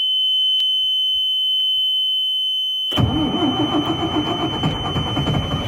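A diesel bus engine cranks over and fails to catch, a loud churning starter rhythm that kicks in abruptly after about three seconds of a steady high electronic beeping alarm tone, which continues underneath.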